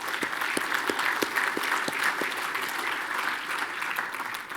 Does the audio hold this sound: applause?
yes